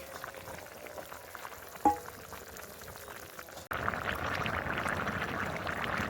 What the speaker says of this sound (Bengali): তরকারিটা বেশ কিছুক্ষণ ফুটে গেছে,